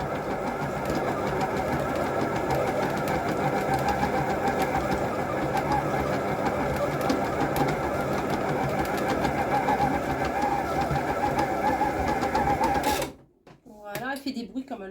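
Electric whisk beating a mixture for an easy recipe, a steady loud mechanical whir running continuously for about thirteen seconds before cutting off, followed by a brief quieter stretch with a voice.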